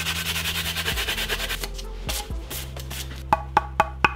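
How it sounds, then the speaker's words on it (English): A sanding sponge rubs over a homemade armor plate in quick back-and-forth scratchy strokes, close up, followed by a few sharp taps. "A little cleanup with a sanding sponge."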